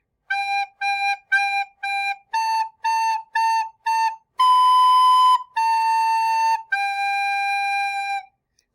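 Last line of Hot Cross Buns played as a simple melody in clear, evenly spaced notes, eight short detached notes followed by three longer held tones, loud and alone with no talking.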